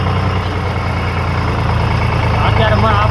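A tractor engine runs steadily nearby, a loud low throbbing drone with a rhythmic mechanical beat, and a voice speaks over it.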